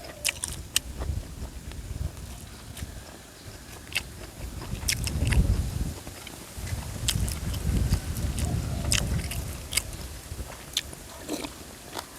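Crunchy, close-up chewing of a rustic Thai beef-tendon curry with cassia leaves: irregular crisp bites and wet mastication noises, with sharp crackles scattered across a soft background.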